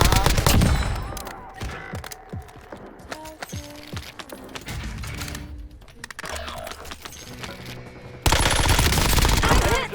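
Dense gunfire from a Call of Duty Warzone match, with rapid bursts and mechanical clatter up front, game voices in the mix, and a loud roaring blast near the end.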